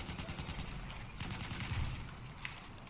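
Rapid bursts of gunfire from a weapon in the Battlefield 1 video game, steady and continuous through the clip with a sharper crack near the end, played loud and close.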